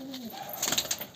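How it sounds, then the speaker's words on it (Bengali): A top-quality pigeon held in the hands struggles and flaps its wings in a short, close burst of fluttering, after a faint low coo. "খুবই ছট খাচ্ছে পায়রা।"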